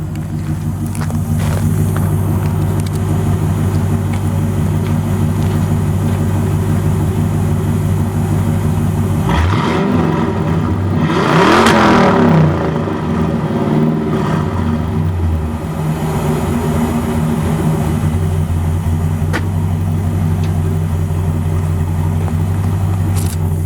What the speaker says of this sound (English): Now we'll do a couple revs for you.